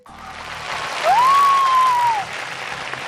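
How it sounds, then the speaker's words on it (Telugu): Clapping from a boy in a Telugu TV game show audience, a steady close patter lasting the whole moment, with a brief whistle-like tone rising and fading in the middle. "ఆ అబ్బాయి ఒక్కడే కనెక్ట్ అయ్యాడు, చప్పట్లు కొడుతున్నాడు"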